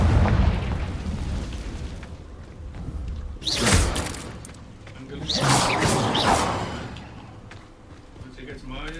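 Two booming Confringo spell explosions go off in Hogwarts Legacy, each a loud burst with a rumbling tail, between stretches of voices and game noise.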